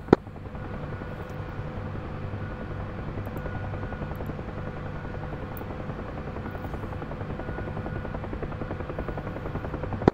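UH-1H Huey helicopter rotor at an airfield with passenger airliners nearby in the DCS World flight simulator, a steady loud rhythmic whop-and-turbine drone that runs continuously through the whole stretch with no talking.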